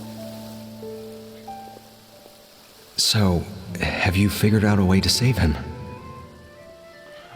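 Rain falls steadily in the video game Genshin Impact, a soft hiss that carries on under a spoken line of in-game dialogue.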